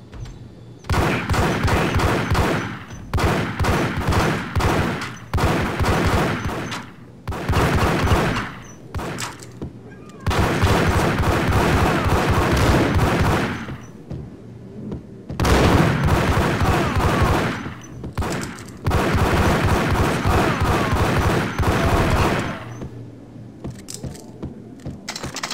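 Gunfire in the video game Max Payne, with long, loud bursts of rapid shots broken by brief pauses, some sustained barrages and a few shorter volleys.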